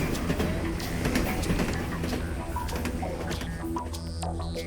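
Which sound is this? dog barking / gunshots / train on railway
train on railway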